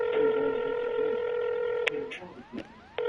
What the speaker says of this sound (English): I need to call 911 right now